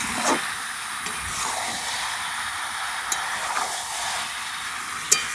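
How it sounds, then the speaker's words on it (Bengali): Chicken sautéing slowly in a pan over low heat with only a little oil and spice, giving a steady soft sizzle with a few faint clinks of stirring. "এই মাংসের সঙ্গে কষাতে থাকবো"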